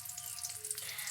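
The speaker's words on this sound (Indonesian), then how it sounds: "Sembari menggoreng bawang merah dan bawang putih" Thinly sliced shallots and garlic fry in hot oil until half-cooked, giving a faint, steady sizzle with soft crackles throughout a short stretch.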